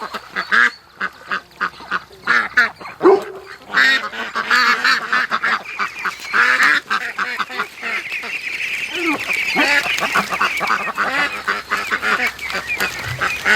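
Domestic ducks and geese in a backyard honking and quacking continuously, a busy flock of overlapping calls close by and fairly loud throughout, with no talk.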